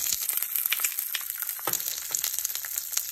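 Chopped onions fry in oil in a pan for a Thai yellow vegetable curry, giving a steady, close, dense sizzle with faint crackles throughout and no talking.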